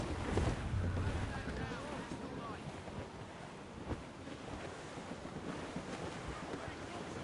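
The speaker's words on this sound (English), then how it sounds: "Wind's getting vicious." Strong wind roars steadily around a sailing ship at sea in Assassin's Creed Rogue, with waves washing against the hull in a constant broadband rush.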